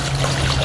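Water trickles and pours into a container from an Ozark Trail 10-piece camp cook and dine kit, a short, close, continuous splashing stream.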